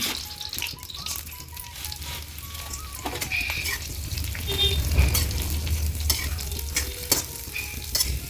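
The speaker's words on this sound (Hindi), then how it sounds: "सबसे पहले कढ़ाई में घी डाल दिया है, सेवई को अच्छे से भून लेते हैं" Homemade vermicelli (sevai) roasting in ghee in a kadhai, a steady close sizzle with repeated scraping and stirring strokes throughout, alone without talk.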